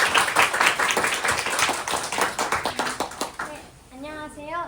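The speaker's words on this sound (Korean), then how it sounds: "그러면 네, 고생한 10학년들에게 박수로." A student audience at a 10th- and 11th-grade outternship presentation event claps steadily for the 10th-grade presenters for about four seconds, the applause thinning out as a voice begins speaking over the tail end.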